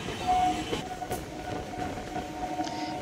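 Local train on the Sealdah–BBD Bag line between Eden Gardens and BBD Bag stations, a steady close rumble of wheels on rails with faint squeals and rattling carriage noise throughout, no talk.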